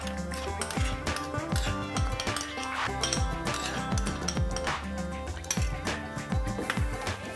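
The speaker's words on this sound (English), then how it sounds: "And now we are adding in about 4 tablespoons of garlic." Metal spoon clinking and scraping against a pot while garlic is stirred into frying onions for a mutton dum biryani, with repeated sharp clinks in an irregular rhythm over a steady sizzle and background clatter.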